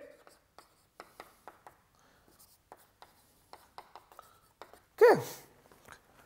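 Chalk or pen strokes during a mathematics lecture, a string of short, quiet scratches and taps in an irregular rhythm, with one brief spoken word near the end.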